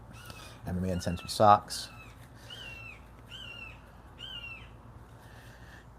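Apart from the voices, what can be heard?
bird cawing in a tree outside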